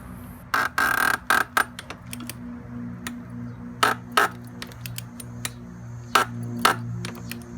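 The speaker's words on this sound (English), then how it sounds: "So you'll see me get it on there, it'll click" A torque wrench clicks several times, sharp and close, while tightening the oil filter housing on an Audi 3.0T engine during an oil change, the brief clicks separated by short pauses.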